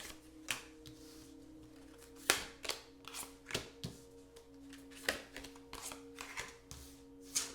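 Tarot cards being shuffled by hand close up, a run of soft riffling flutters and crisp card slaps at an uneven rhythm.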